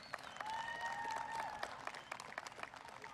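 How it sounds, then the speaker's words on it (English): Audience applause at a city kick-off event, a steady wash of many hands clapping with occasional sharper claps and a brief whistle, moderately distant. "So now you can all give yourselves a big round of applause."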